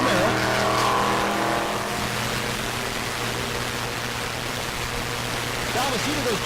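A stick shift ZR1 Corvette and a Z01 Camaro drag racing, engines droning loud and continuous with a steady low hum and rising whine, with a voice over the top.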